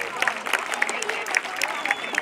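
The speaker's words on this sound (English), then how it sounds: "So let us give us a clap for the weather gods." A crowd clapping outdoors at a community fun run and wellness fair; loose, uneven applause with scattered sharp claps, moderately loud, with a voice speaking alongside.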